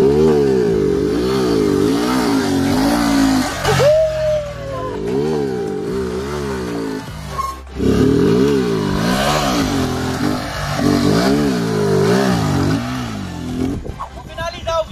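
A Honda Titan 150 Mix motorcycle engine revs hard and repeatedly during a wheelie, loud and near with rising and falling pitch and brief drops between bursts, while people talk and shout under it.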